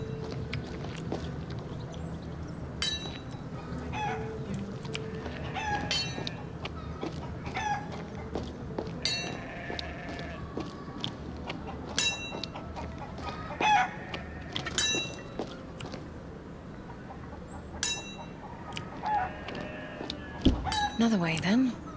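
Video game chickens from The Vale: Shadow of the Crown cluck and chatter softly in the background of a village, with scattered clicks and knocks and occasional low voices mixed in.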